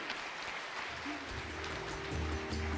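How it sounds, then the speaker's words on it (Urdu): A studio audience claps throughout a televised Ramadan iftar quiz show, a dense, fairly close wash of applause mixed with talk and a low tonal background. "ان کے لیے تالیاں ہو جائیں بھائی"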